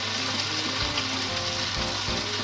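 Garlic, ginger and dried red chillies fry in hot oil, giving a steady, dense sizzle that stays loud and close for the whole short stretch, with no voices over it.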